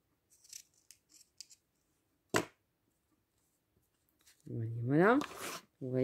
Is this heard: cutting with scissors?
yes